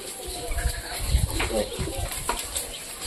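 Pet pigeons coo low and soft inside their loft cage. Murmured voices sit faintly underneath, with steady background hiss.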